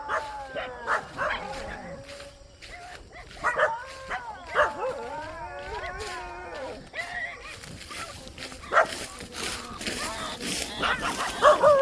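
A puppy being bitten by a fox yelps and whimpers repeatedly in high, distressed cries, close by and urgent, with a few voices talking over the commotion.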